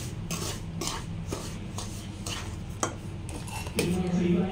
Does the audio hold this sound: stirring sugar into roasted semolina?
yes